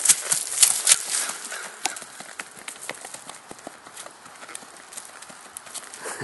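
Hooves of a Paso Fino walking horse clip-clop at a quick, uneven pace on firm ground through an obstacle course, loud at first and then a bit farther off, with sharp scattered hoof strikes throughout.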